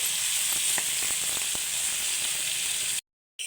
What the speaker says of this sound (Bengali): চিকেনগুলো এবার দিয়ে দেব। ভালো করে একটু ভেজে নেব